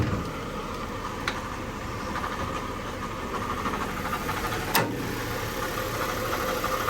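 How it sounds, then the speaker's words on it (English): A Porsche 911 with a 4.0 engine idles steadily close by, its fan clutch adding a light continuous rattle. Two sharp clicks stand out over the even hum, and no one speaks. "That little rattling sound you hear, I think it's coming from the clutch on the fan."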